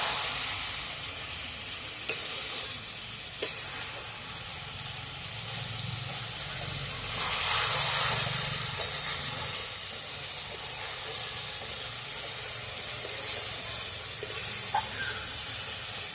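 A brinjal (eggplant) curry simmers on very low heat in a soft, steady sizzle and hiss, with a few light clicks of utensils and a brief swell of steam partway through.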